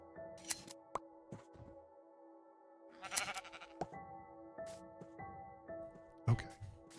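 Sheep in the video game Minecraft bleat several times over a quiet background, short separate calls spread across the clip, some nearer and some fainter, with a few soft clicks between them.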